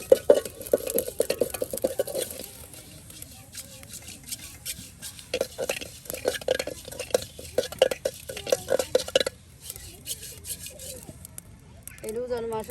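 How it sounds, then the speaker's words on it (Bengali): Cumin seeds being dry-roasted and stirred in a pan for a village egg and bottle-gourd curry: repeated scraping and rattling strokes, near and uneven, with faint voices in the background. "এই যে আপনার জিরা ভেজে নেওয়া হচ্ছে"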